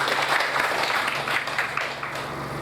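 Many hands clap in steady applause at a newspaper's founding anniversary gathering, a dense, continuous patter from the crowd lasting throughout at fairly strong volume.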